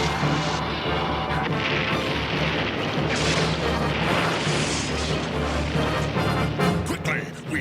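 Torpedo launch and blast in a GI Joe cartoon, a loud sustained rumble with crashing impacts and booming bursts throughout, dense and continuous for several seconds.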